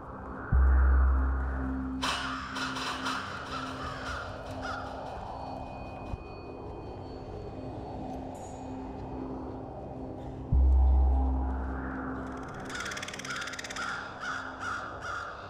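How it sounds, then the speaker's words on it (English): Crows cawing in a village setting, repeated harsh calls spread across the stretch, some near and some farther off, over a low rumble with no talk. "사람들은 되게 까마귀가 운다라고 하는데"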